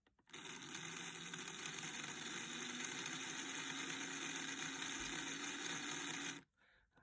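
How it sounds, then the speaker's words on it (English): A Scalextric slot car electric motor, from a 1968 Ferrari P4 model, runs in at low volts: a steady, close buzzing whir held for about six seconds before switching off. "so let's run this motor in. And what I'm going to do for this one, so I'll just run the motor at low volts."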